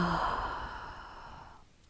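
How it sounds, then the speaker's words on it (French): A long exhaled yawn during an evening yoga session, a single drawn-out breathy sigh that starts loud and slowly fades over about two seconds, heard alone with no talking. "lâchez, baillez."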